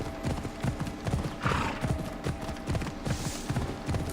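Horse hooves clip-clopping at a steady gallop while riding in Assassin's Creed Odyssey, a continuous rhythmic run of close, even hoofbeats with brief whooshing swells, no voices.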